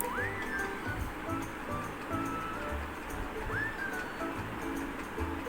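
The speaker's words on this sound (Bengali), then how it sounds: "এই যে দেখো ঝোলটা একদম সুন্দর ফুটে গেছে" Fish curry broth simmers in a pot, giving a soft, continuous bubbling and gurgling at a low, faint level.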